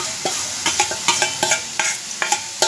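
Onion, tomato and green chili sautéing in a pan, a loud close sizzle with repeated spatula scrapes and taps in an uneven rhythm.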